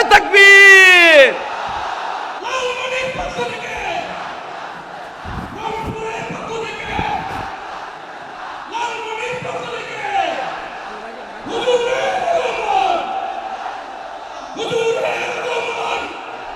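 A huge crowd at a Bangladeshi religious gathering answers a takbir call, roaring back together in several loud chanted bursts after a single leading voice, echoing across the open grounds.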